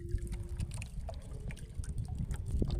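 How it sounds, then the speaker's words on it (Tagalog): A strong night-time current rushes past a rocky fishing spot, giving a steady, close wash of flowing water with faint splashes and no talking. "Parang baha yung agos. Lakas."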